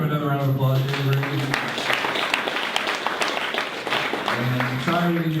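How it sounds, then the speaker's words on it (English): Audience applause following a talk about the Lincoln Motor Company, a steady broadband wash of clapping with a voice speaking over it throughout. "Let's give him another round of applause."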